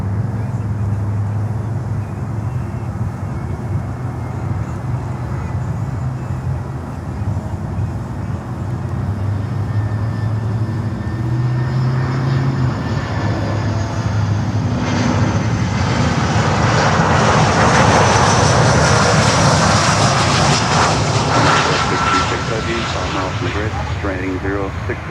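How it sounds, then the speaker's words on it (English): Boeing 747 cargo plane passing close near a Miami runway, a loud engine roar that swells and peaks as it goes by, over steady background noise with people talking. "And there comes the 747."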